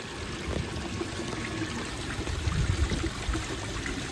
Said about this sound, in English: It's got a nice nice flow out the weir.